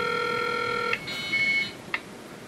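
An Apple IIe's dial-up modem dials out with steady, layered dialing tones that switch pitch partway through, broken by a couple of sharp clicks, all fairly faint and with no voices.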